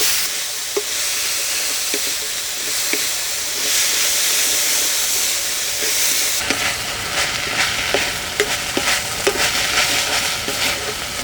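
Peanuts and onion pieces sizzle and fry in a kadai for stuffed brinjal masala, with steady hissing and occasional scraping of stirring throughout, growing louder and brighter partway through.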